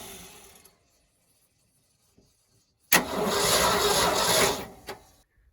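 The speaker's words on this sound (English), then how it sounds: "so we'll just crank it over with the solenoid again" A 1971 Ford F600 truck engine that sat since 1992 is cranked over with the starter solenoid, a brief click and then about two seconds of loud, steady churning cranking that stops without catching.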